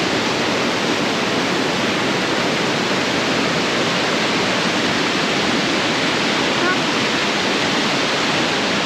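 Mae Sa waterfall near Chiang Mai, its rushing water a loud, steady broadband roar that stays constant throughout, close by, with no other sounds standing out.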